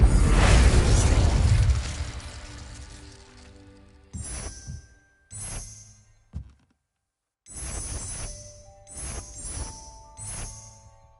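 Fire spells cast in Hogwarts Legacy, a burst of roaring flame followed by several sharp magical bangs and crackles in quick separated bursts, loud and close with short silences between.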